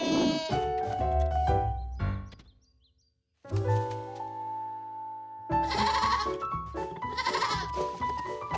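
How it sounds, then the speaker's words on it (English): Cartoon baby goats bleat loudly and repeatedly in a run of wavering, nasal calls, falling briefly silent before a fresh burst of overlapping bleats returns. "I'm getting awful tired of chasing goats, George."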